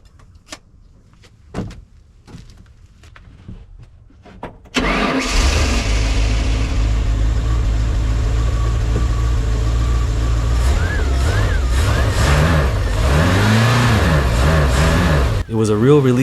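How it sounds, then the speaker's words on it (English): A restored boat engine with a newly replaced mechanical fuel pump cranks and catches, then runs loud and steady, its revs rising and falling; a voice speaks faintly before it starts. "It was a real relief to hear that engine run."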